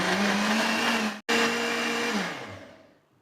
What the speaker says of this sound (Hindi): अच्छी तरह से इसको हम ब्लेंड कर लेंगे।